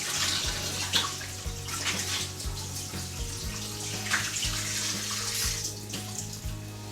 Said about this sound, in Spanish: nos vamos con un chorro de agua bien fría.